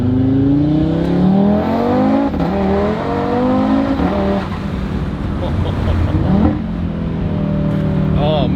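Tuned Audi RS3 8Y accelerating hard through the gears, its engine note sweeping upward and repeatedly dropping at each shift, loud and close from inside the cabin, with a voice talking over it.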